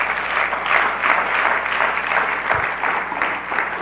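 A church congregation applauding during a service: dense, steady clapping from many hands, loud and continuous for several seconds with no talk over it.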